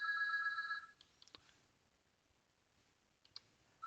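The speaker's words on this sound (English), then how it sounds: "The phone is ringing." A telephone rings with a sharp electronic tone burst lasting about a second, followed by a quiet stretch with a few faint clicks, then the ring starts again at the end.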